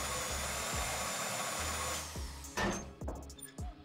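A drill whines steadily into a bank safe deposit box during a heist in GTA 5, a loud continuous mechanical drone that drops off partway, followed by clanks and bursts of game noise.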